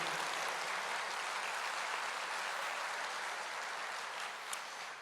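Church congregation applauding during a Portuguese-language worship service, a steady dense wash of clapping that holds evenly throughout at a fairly distant, moderate level.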